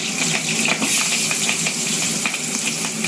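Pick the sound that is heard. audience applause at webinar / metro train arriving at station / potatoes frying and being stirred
potatoes frying and being stirred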